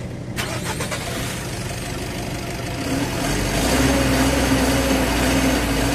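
A Mitsubishi L300 Euro4 van with an overheating problem cranks briefly and then starts, settling into a steady, loud idle hum close by with no voices.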